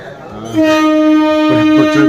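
A local train arrives at Bahanaga station, sounding a loud, sustained horn blast that begins abruptly and holds steady close by, with some rumbling underneath.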